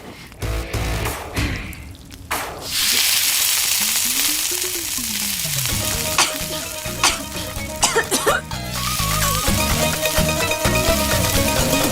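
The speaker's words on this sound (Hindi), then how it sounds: "मरचा का छौंक लगा, तब तक हम सब्जी लेकर आते हैं।" Loud, steady sizzling of chili tempering in hot oil, with stirring clatter and a few sharp metallic clinks near the pan.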